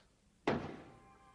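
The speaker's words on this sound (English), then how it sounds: "I knocked." A single dull thud of a knock on a door in a 1982 mystery drama film, sharp at the start and fading quickly against a quiet room.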